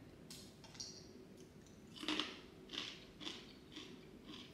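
Close, quiet crunching bites repeat every half second or so, crisp bacon being chewed near the ear with no talking.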